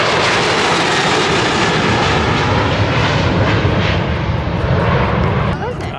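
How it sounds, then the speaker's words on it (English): A Virgin airliner's jet engines roar at Manchester Airport, a loud, steady broadband rumble that holds through the clip and eases slightly near the end, with people talking underneath. "I'm just going to say that's the Virgin plane."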